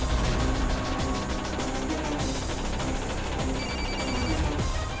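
A telephone rings with an incoming call in a home setting from the drama Piyaa Albela, a steady repeating electronic ring filling the moment at moderate loudness with no talk over it.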